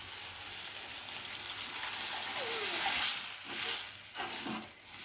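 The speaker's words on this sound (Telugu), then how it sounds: "ఇప్పుడు చింతపండు పులుసు అయితే ఇందులో పోసుకుంటా" Tamarind extract hisses and sizzles as it hits hot oil in a pan, a bright, crackling fizz that swells and then settles, close and without talk.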